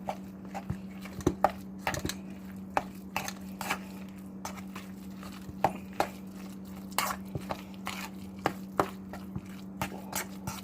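Shredded cheese being mixed and folded into a mixture, with scattered soft scrapes and taps of a utensil against a bowl over a steady low hum, no voices.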